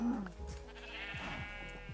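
Sheep bleat in Minecraft, a couple of wavering baa calls close by over a low steady background, with no talk.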